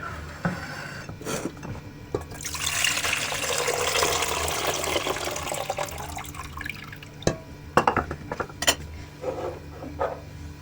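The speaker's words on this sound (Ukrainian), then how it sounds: "І розсіл зливаю у каструлю." Pickle brine pours steadily into a saucepan for several seconds with a splashing, gurgling rush, framed by a few clinks and knocks of kitchenware before and after.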